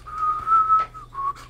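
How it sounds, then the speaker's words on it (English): A whistle in the Sleeping Dogs video game, a clear tuneful human-style whistle in three short phrases over a quiet low hum. "Whistle."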